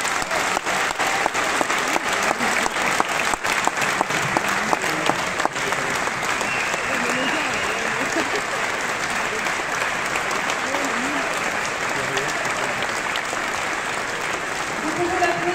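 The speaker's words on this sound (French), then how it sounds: "Vous pouvez l'applaudir vraiment très fort." Sustained loud applause from a large audience at a political rally, dense clapping continuing steadily for the whole stretch with a faint crowd murmur beneath.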